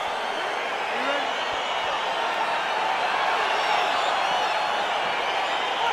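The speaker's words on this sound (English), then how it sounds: "crowd getting excited as this fight gets underway" A UFC arena crowd murmurs and cheers as a heavyweight fight gets underway, a broad, steady roar of many voices held at a moderate distance with no single voice standing out.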